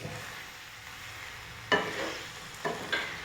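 Ivy gourd and tomato stir-frying in a pan, a soft continuous sizzle broken by a few sharp spatula scrapes and tosses, close and steady, no voices.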